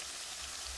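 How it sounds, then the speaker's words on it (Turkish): Salt sprinkled into a pan of fresh fava beans cooking over low heat makes a faint, continuous hissing patter, like light rain on a surface, with no talking. "Tuzunu da atıyorum"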